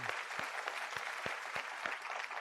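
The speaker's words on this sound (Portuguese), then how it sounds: "Mais aplausos para o auditório" Audience in an auditorium at a live show claps briefly and faintly, a thin patter of scattered hands that stays quiet and distant.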